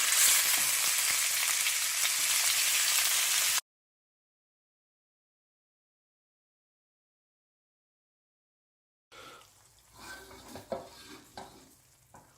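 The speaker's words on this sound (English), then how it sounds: "And just break up and brown your mince off for about 5 minutes." Minced beef sizzles loudly as it browns in a frying pan. After a few seconds of steady crackle it cuts to silence, then returns to quieter frying with intermittent stirring and scraping noises.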